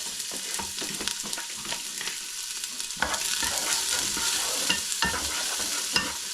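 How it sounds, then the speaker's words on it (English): Onions frying in a few spoons of hot oil in a pan for a Japanese curry, a steady close sizzle with scraping stirs and small clatters throughout, louder after the first few seconds. "I'm going to cook my onions first. So let's dump that in there."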